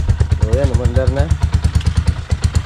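Motorcycle engine running just after being started following repair work, a steady close rumbling idle with rhythmic pulsing, while a person briefly talks over it.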